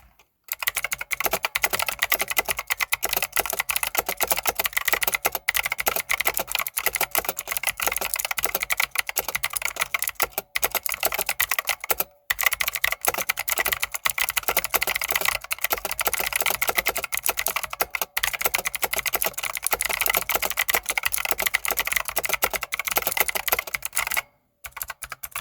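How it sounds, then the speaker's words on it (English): Rapid typing on a Black Shark Sixgill K2 mechanical keyboard with clicky blue switches, a dense, crisp, continuous stream of keystrokes close to the mic with a few short pauses. "Turn up the sound and listen to these blue switches go."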